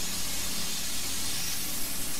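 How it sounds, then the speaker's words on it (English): Fire hose in the firefighting video game EmergeNYC blasting water in a steady, loud hiss, a continuous broadband rush with no breaks or voices. "Let's just spray everything."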